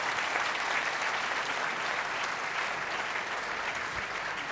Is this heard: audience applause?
yes